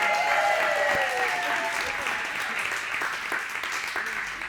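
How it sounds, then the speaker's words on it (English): An audience at a live comedy show breaks into sustained applause, a dense crowd of clapping hands that is loud at first and slowly tapers over several seconds. "Give her a round of applause"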